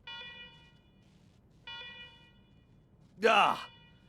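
Electronic alarms blare in the post-apocalyptic RPG Wasteland 3, Ranger HQ, as two steady tonal beeps sound at moderate level, followed by a louder, brief burst near the end.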